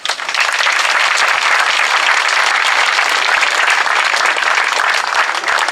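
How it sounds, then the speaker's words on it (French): Loud, sustained crowd applause at a town festival reception honouring sports associations, dense clapping from many hands continuing evenly throughout with no speech. "Voilà, merci Patricia, on peut l'applaudir."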